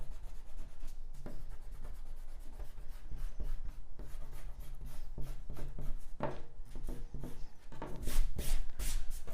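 An eraser rubbing out pencil guidelines on paper, close and quiet, with quick back-and-forth scrubbing strokes in short bursts that grow a little firmer toward the end.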